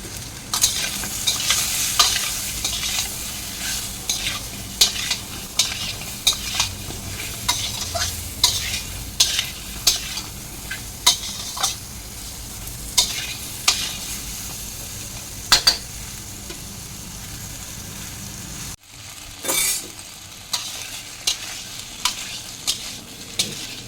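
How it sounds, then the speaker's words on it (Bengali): Ridge gourd and eggplant frying with salt and turmeric in a pan, with a continuous close sizzle punctuated by regular sharp stirring scrapes and clinks, a brief pause near the end, and then more sizzling. "ঝিঙা আর বেগুনটা আমার হালকা ভাজা হয়ে গেছে।"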